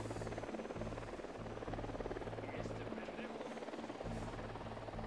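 Drone rotors in the Ghost Recon Wildlands video game give a steady, close buzzing hum that runs the whole time under ongoing game sound, with faint voices mixed in.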